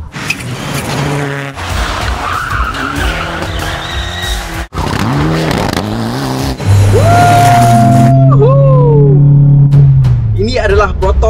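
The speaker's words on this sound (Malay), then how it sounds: "Jom kita lenjan kereta ni sekali lagi." A Proton Inspira car is driven hard, its engine revving up and down through gears with tire squeals and skidding near the end, loud and close, while a voice talks.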